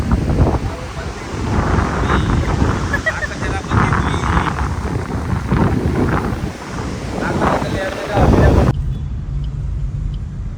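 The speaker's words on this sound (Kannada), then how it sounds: "ಗಾಳಿ ತೂರ್ಕೊಂಡೇ ಹೋಗ್ತಾ ಇದೆ" Strong wind at Malpe Beach buffets the microphone in a loud, continuous roar, with a low rumble that may be surf underneath; it cuts to near quiet at the end.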